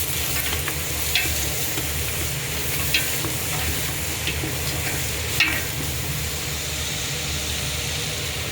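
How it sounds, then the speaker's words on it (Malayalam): Spices are stirred into hot oil and ghee, frying with a continuous loud sizzle, a low steady hum beneath it and a few sharp stirring clinks. "അതിലേക്ക് നമ്മളെല്ലാ സ്പൈസും ഇതാക്കി ഇളക്കി കൊടുക്കുക"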